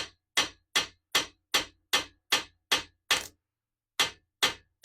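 A hammer taps a copper scoop cup in a blacksmith's shop: about a dozen sharp, ringing metallic strikes in a steady rhythm, each decaying quickly, with one short pause before the last two, loud and close with no talking.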